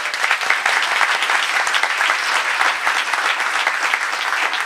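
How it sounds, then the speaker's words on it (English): Audience applause at a town council meeting, a continuous even wash of many hands clapping throughout, loud and sustained with no talk on top. "let's give him a little round of applause"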